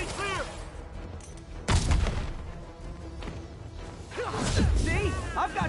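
Enemy gunfire and impacts in Marvel's Spider-Man, with a sharp crash near the middle and scattered blasts, whooshes and chirpy electronic sounds around it, moderately loud and busy.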